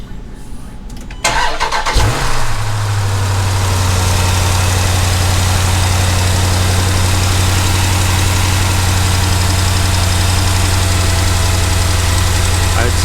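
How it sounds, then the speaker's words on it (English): A Jeep Grand Cherokee SRT with the 6.4 engine and stock air box cranks and fires up close to the microphone at about two seconds, then settles into a loud, steady, low idle hum that continues to the end. "All you hear is machine noise of the engine."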